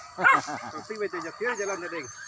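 A dog in a rural rice-field setting gives a run of short yipping, whimpering barks, close and fairly loud, in quick uneven bursts.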